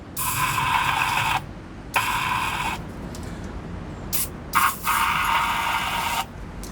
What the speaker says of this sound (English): So I'm cleaning the holes and then spraying some of this penetrant.